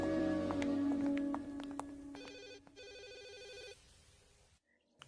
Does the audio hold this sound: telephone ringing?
yes